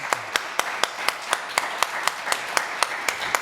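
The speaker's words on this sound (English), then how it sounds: "Let's give them a round of applause." Sparse, evenly spaced claps from a small audience at a retirement symposium panel, roughly fifteen sharp hand claps ringing out over a quiet room with faint background murmur.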